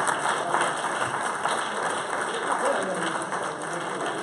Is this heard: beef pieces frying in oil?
no